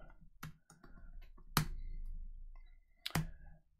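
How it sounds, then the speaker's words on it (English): Keys on a computer keyboard are tapped in a few sparse, sharp clicks with short gaps between them, close and quiet in an otherwise still room. "I just type away here."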